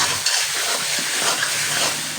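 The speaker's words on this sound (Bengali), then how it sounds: "একটু কষাতে হবে আরেকটু।" Mutton pieces are stir-fried for kosha in an oiled pan, giving a constant loud sizzle and hiss with scraping stirring strokes against the pan. The sound is close and has no talking over it.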